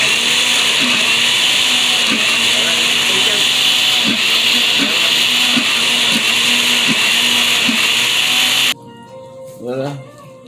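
A blender whirs loudly and steadily for about nine seconds, mixing aloe vera gel with ginger juice, then cuts off abruptly into a short quiet tail with a brief low thump.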